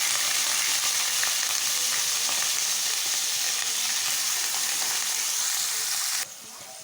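Onion and whole spices (cinnamon, cloves, bay leaf) frying in a hot pan for egg biryani give a steady, dense, close sizzle that drops in level near the end.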